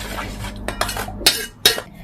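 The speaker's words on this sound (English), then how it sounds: "Here mix it until the sugar dissolves. As you can see, I'm now using a spoon." A metal spoon stirring a sugar mixture in a bowl for a stovetop apple cake, with soft scraping followed by several sharp clinks against the bowl's side.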